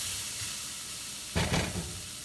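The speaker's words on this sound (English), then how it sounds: "Let's give you a good little stir after that." Food frying in a pan with pepper and salt as it is stirred: a faint, steady sizzle, then a brief, louder burst of scraping and hissing as the spoon moves through it near the end.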